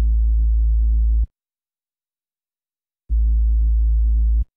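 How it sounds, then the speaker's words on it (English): Two sustained bursts of detuned sine-wave bass, pitched down two octaves with overdrive on the mids, produced in Ableton Live; each note holds about a second and a half, separated by silence, loud and clean. "This is just a few sine waves detuned and pitched down 2 octaves with some overdrive applied to the mid-range"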